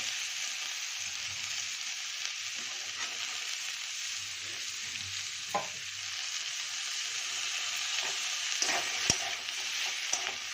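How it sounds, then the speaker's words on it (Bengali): Onion stalks frying in a pan with potatoes, a steady bright sizzle throughout, broken by a few soft stirring scrapes and light clinks of a utensil. "পেঁয়াজের কলিটাকেও আমি 2-3 মিনিট ভেজে নেব সব কিছু একসাথে"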